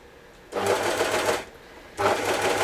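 A Janome Desire 3 cover stitch machine sews stretchy fabric in two short bursts, each a close, fast, even mechanical whirr of about a second separated by a brief pause.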